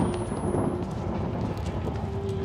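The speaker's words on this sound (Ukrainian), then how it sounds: "на вулиці йде дощик" Steady rain pours outside with a deep rumble of thunder rolling underneath, a dense continuous wash at moderate level in the horror video game Outlast.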